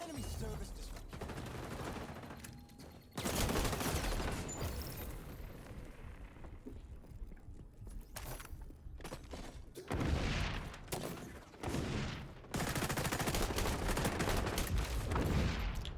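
Bursts of gunfire from guns in the shooter XDefiant, with dense rapid automatic fire in loud sustained stretches broken by short pauses and quieter gaps, alone with no talk.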